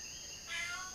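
A pet cat gives a single short meow in a quiet room, faint and close, over a steady high-pitched electronic whine.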